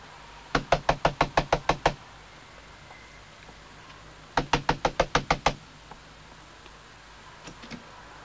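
Police pound on a door in a Turkish film scene: two rapid bursts of about eight loud, sharp knocks each, separated by a quiet pause, with faint taps near the end.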